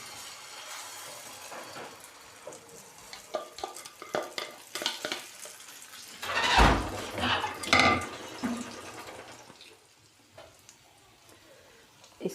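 An omelette egg mixture goes into a pan of hot oil: stirring clatter and scraping first, then a loud surge of sizzling hiss as it hits the pan, fading to quieter frying, with no voices.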